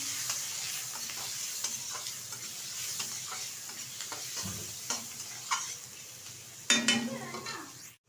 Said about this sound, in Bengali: ভালোভাবে ভেজে নেব পেঁয়াজটা